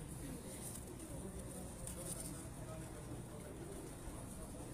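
Teddy pigeons coo on a rooftop, soft low calls nearly buried in a steady wash of background noise throughout.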